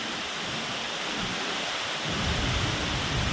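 Steady rain hisses evenly throughout, with a deep low rumble swelling in partway through like distant thunder.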